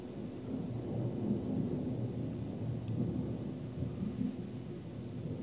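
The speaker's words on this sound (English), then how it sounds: "Wow, we're getting thunderstorms." A thunderstorm in the Pacific Northwest rumbles low and steady, with soft rolling thunder and a faint wash of rain, fairly quiet and with no talking.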